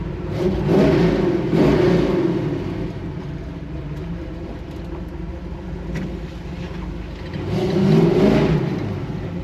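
A big block V8 in a Chevy Nova revs and accelerates with a throaty mid-range roar, swelling loud near the start, easing to a steady drone, then building again toward the end, heard from inside the car.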